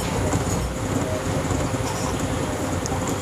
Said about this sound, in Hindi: अच्छी स्पीड की वजह से ना, we can feel vibration inside the train also.